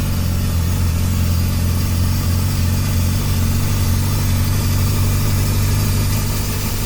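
A rare old Toyota's 90-horsepower four-cylinder engine running on its carburetor, a loud, steady, close-up drone with a constant low throbbing tone throughout and no voices.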